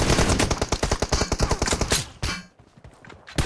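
Rapid automatic gunfire from a PUBG Mobile match rattles in a dense, loud burst for about two seconds, then cuts to quiet before a few scattered shots return.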